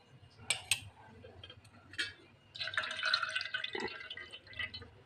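Juice squeezed from ground sugarcane mixed with water drips in a few distinct close drops, then trickles in a short, soft stream before a few last drips.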